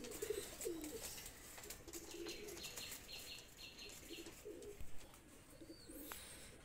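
Shirazi pigeons give soft, low cooing calls with brief chirps and a few wingbeat flutters, fairly faint against a constant background hiss.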